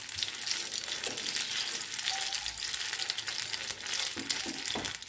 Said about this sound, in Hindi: अभी मैं एक एक करके पकोड़े इसमें फ्राई करती जाऊंगी